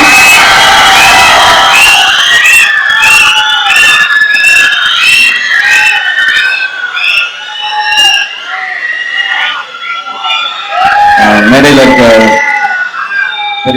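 A large crowd cheers and shouts loudly at a Tamil film press event for Garudan featuring Soori and SK, with excited voices layered together, briefly dipping midway before swelling again.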